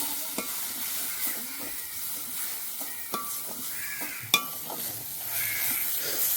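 Prawns sautéing with salt in a pan for a Sri Lankan prawn curry in a village home kitchen, a steady close sizzle with scattered sharp clinks and scrapes of a stirring spoon against the pan.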